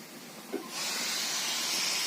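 Steady steam hiss starts softly, then swells after a brief knock into a loud, continuous high-pitched rush that holds to the end.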